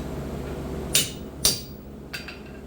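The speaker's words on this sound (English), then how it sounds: "I use a chisel to mark out the line so when it's red hot I can see where to cut." Three sharp metallic hammer strikes on a chisel marking a cutting line on a metal bar during blacksmith forging of a rushlight, spaced about half a second apart then a pause, close and distinct over faint background hum.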